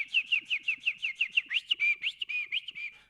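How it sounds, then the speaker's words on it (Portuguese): Birds sing at a window, giving a steady run of bright, rapid whistled chirps that repeat for about three seconds, close and fairly loud, with no voices. "Acorda com os passarinhos cantando na janela."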